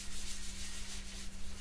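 Wood being sanded with Yorkshire grit abrasive, a brief close rasping rub that is steady and loud.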